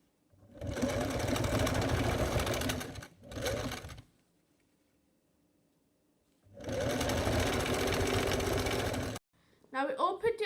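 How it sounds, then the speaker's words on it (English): A sewing machine stitches along the edges of jacket fabric at the shoulder seam, running in two steady bursts, a short pause, then a longer run, with speech heard near the end. "And you're going to stitch along the edges like this."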